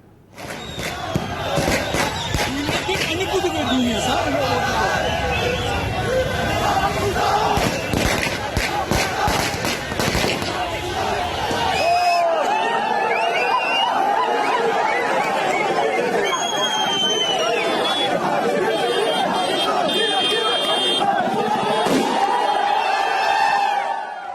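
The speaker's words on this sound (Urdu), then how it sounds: "عوام سڑکوں پر نکل آئے اور پاکستان زندہ باد کے نعرے لگائے" A large crowd in the streets of Kashmir chants Pakistan Zindabad slogans, a loud, dense mass of shouting voices and cheers that keeps going without a break.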